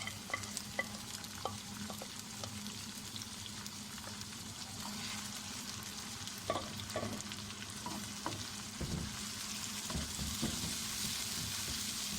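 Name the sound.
mutton added to browned onions, frying in pot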